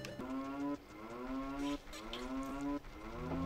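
A cow in the video game Ocarina of Time Randomizer moos three times in a steady rhythm, each a loud, sustained low call.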